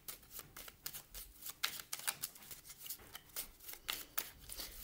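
Oracle cards are shuffled in quick, repeated papery riffles and slaps, fairly faint and close, with a steady uneven rhythm and no voices.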